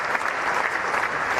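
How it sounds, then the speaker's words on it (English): Small crowd at a Pakistan versus Australia first Test cricket match in 2019 applauding a batsman's century, a steady patter of distant clapping throughout with no talk. "And the small crowd in here are very appreciative."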